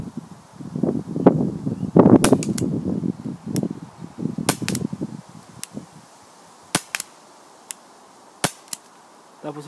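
Air gun shots ring out as a series of sharp, isolated cracks, several spaced apart in the later part, after a stretch of handling noise and rustling; the gun is running low on air.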